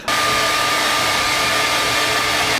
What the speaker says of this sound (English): So blow drying your hair just keeps it up and keeps it like nice and good.